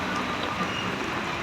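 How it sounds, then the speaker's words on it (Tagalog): Steady dense hiss of heavy rain pouring down close by at a market, a constant wash of noise without breaks or voices. "Grabe, ang lakas ng ulan dito."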